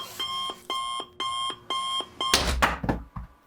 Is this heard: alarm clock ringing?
yes